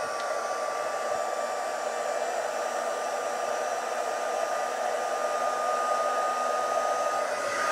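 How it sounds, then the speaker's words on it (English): Embossing heat tool warming up, a steady blowing hiss with a faint hum, continuous and even throughout, with no talking. "Just giving it a minute to heat up."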